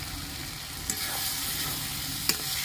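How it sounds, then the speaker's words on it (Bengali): Fried potatoes sautéing in a spiced yogurt gravy in a pan, a steady close sizzle with a couple of sharp clinks from a spoon against the pot as the mixture is stirred. "আলু দিয়ে ভালো করে একটু কষিয়ে নেব।"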